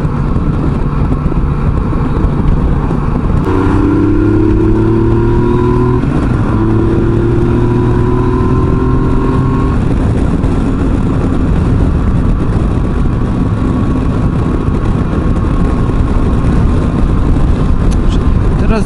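A Yamaha Tracer 900 motorcycle engine rises in pitch as it accelerates, heard from the rider's position under heavy, constant wind roar. The engine fades back into the rushing noise.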